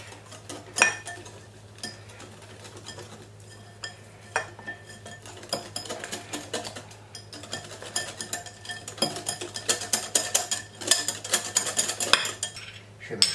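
Spoonfuls of cornstarch going into a bowl for crispy chicken, with repeated clinks and scrapes of a metal spoon against the bowl, sparse at first and growing busier toward the end.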